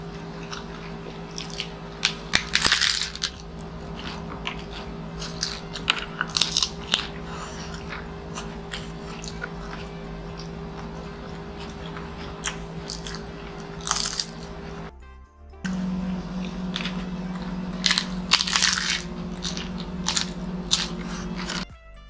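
Loud, close crunching bites and chewing of homemade nachos and tacos, repeated irregular crisp crunches over a steady background hum.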